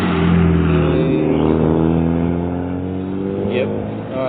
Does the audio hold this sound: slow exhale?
no